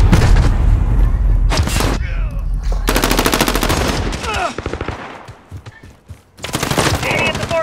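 Rifle gunfire in Call of Duty on Xbox One comes in loud, close bursts of rapid automatic shots separated by short pauses, with a voice speaking in between.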